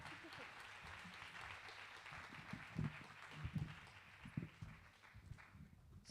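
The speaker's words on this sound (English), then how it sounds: "Give them another round of applause." An audience applauds at a live event, steady clapping at moderate distance with a few louder close claps and some voices in the background.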